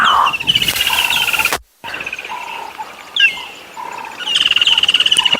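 Several woodland kingfishers answer one another from different sides of a dam on a sunset safari, loud rattling trills repeating near and farther off, broken by a brief gap.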